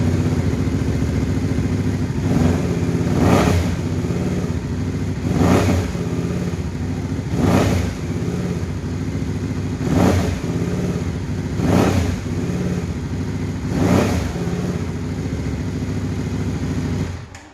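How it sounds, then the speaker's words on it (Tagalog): Idling Benda Motors Darkflag 500 motorcycle with its exhaust blipped in regular revs, about every two seconds, each throttle burst swelling loud and close over a steady rumble. "Mga idols, yan naman ng ating actual exhaust sound."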